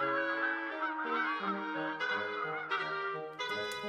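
Geese honk loudly and continuously in a fairy tale sound effect, a dense overlapping flock of nasal calls close by that rises in pitch toward the end.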